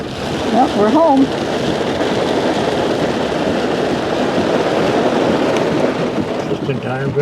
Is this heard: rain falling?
yes